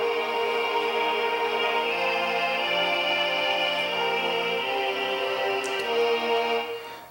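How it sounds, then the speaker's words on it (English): FL Studio Mobile string ensembles layered with a Mellotron, a dense sustained pad of slowly shifting chords that holds steady and fades at the end, no speech. "that's actually the morphine string ensembles"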